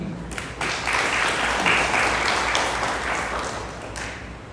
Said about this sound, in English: Extra round of applause for that.